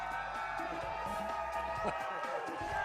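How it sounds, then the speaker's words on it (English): Crowd cheering and whooping at a trick shot billiards team event, USA versus Europe, a sustained lively roar with scattered claps, heard under a commentator talking. "And crowd really into it now."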